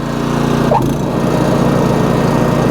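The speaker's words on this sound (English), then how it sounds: "let's get the augers going" A Honda HSS928A snowblower's augers run, its engine roaring steadily up close with a rattling, churning drone, a brief shift in tone early on, no talking.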